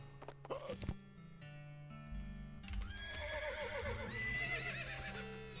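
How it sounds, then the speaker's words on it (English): Drunk horses in the video game West of Loathing give a few soft thumps and clip-clops, then a long, loud, wavering neigh that rises and shakes before trailing off, with no talking. "You know the town's gone pot when the horses are drunk."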